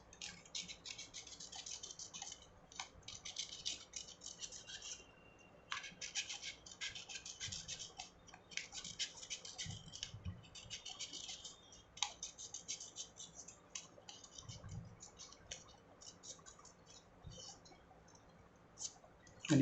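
Scissors snip around a paper spiral for a paper flower, a quiet run of crisp, irregular cutting clicks and scrapes close by.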